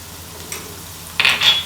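Onions hit a hot pan and start sizzling, a sudden bright crackle that builds after a short quiet moment.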